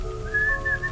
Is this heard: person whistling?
yes